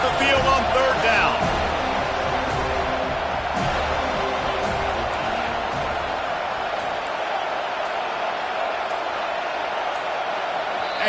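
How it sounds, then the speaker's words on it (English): A loud home stadium crowd roars in a sustained wall of noise at a Rutgers at Florida State college football game as the defense faces third down, with a commentator talking over it. "Here comes this home crowd as the defense tries to get off the field on 3rd down"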